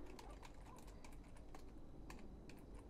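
Quick, steady keystrokes on a computer keyboard while a console command is entered, a run of sharp clicks up close with a faint background hum and no speech.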